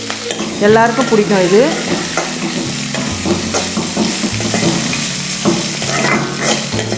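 Sliced onion and green chillies sauté in hot oil in a pan for onion chutney, a continuous sizzle with scraping stirs, while someone talks over the cooking near the end.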